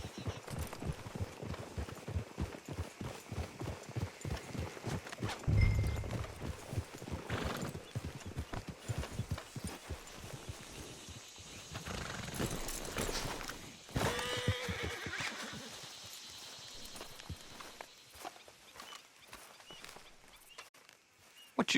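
Horses clop their hooves in a steady rhythm and whinny loudly a couple of times in the video game Red Dead Redemption 2, with faint rustling and voices in the background.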